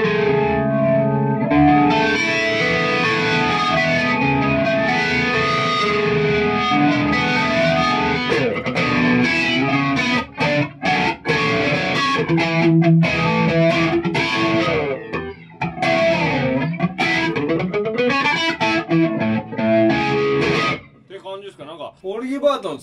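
Electric guitar played through an Ibanez AF2 Airplane Flanger pedal set to a strong flange, with a continuous loud sweeping jet-like effect over chords and riffs and a brief pause near the end.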